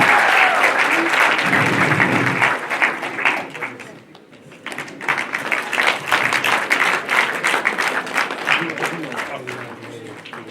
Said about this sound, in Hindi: चलिए जोरदार तालियां महविश के लिए